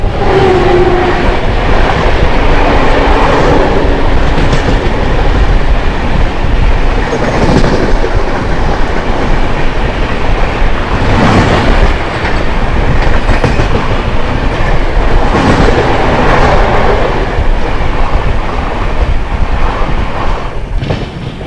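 The 12870 Howrah CSMT weekly superfast express arrives at Gondia Junction with loud, rhythmic clickety-clack of wheels over rail joints and a steady rolling rumble close by.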